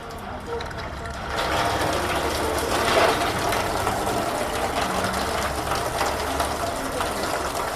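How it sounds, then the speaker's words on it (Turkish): A small ratchet with an 8 mm socket clicks rapidly while removing bolts on a Citroen C4 timing belt job, a steady busy mechanical rattle in a workshop with faint background noise. "8 lokma küçük cırırla civatalarımızı söküyoruz"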